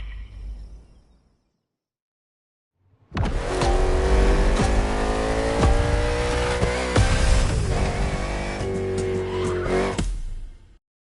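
The Thunderbolt car in The Crew Motorfest revs up after a brief silence, its engine roaring loud and close with climbing and falling pitch and squealing tires.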